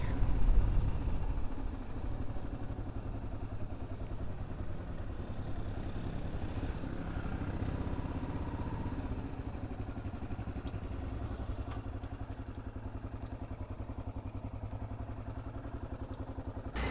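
A motorcycle engine runs steadily throughout, a low continuous rumble with a slight rattle, fairly close and unbroken.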